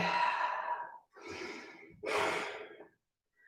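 Slow yoga breathing exercise: a long audible exhale, then a softer inhale, then a stronger breathy exhale, each separated by brief pauses, close and clear with no talking.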